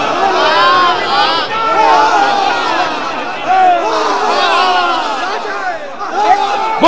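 A large crowd at a Shia majlis mourning gathering recites salawat aloud together, a dense wall of overlapping voices that rises and falls in swelling waves throughout.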